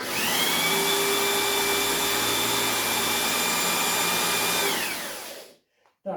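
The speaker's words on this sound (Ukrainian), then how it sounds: "Це я взяв дрельку, тут поставив головку." An electric drill with a socket head turns the input of a truck gearbox set in first gear, giving a loud, steady motorized whir with a constant tonal whine for about five seconds before it winds down and stops.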